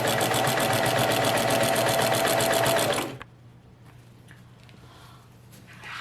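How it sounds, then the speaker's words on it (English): A sewing machine stitches in the ditch along a crease of a denim shirt, a fast steady whirring run for about three seconds that stops abruptly, leaving quiet room tone with faint handling noises. "I want to make sure I get right in this crease when sewing"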